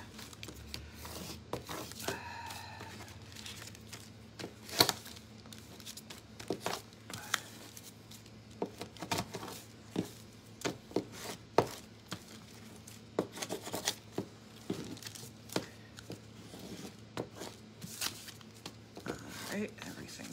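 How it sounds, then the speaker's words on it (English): Vinyl letters are burnished onto a cup with a scraping tool, producing repeated short scrapes and crinkly rubs in irregular bursts, close and quiet, over a low steady hum. "Okay, so I'm going to scrape my letters again. Burnish them to the top."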